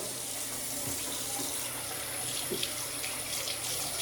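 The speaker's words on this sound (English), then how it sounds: "Hot water is coming out, so we're good to go. Cold water is coming out too." Water runs steadily from a faucet in a house during a home inspection, a soft continuous splashing hiss with small gurgles, alone and fairly quiet.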